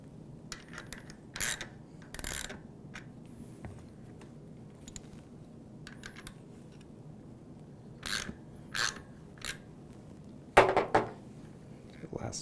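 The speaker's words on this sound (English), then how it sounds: "I'm going to tighten each side just little by little." Bicycle axle nuts are tightened on a Huffy Scout front fork during assembly, giving a few scattered metallic clicks, scrapes and ratchet-like taps, fairly close and intermittent, with a sharper burst near the end.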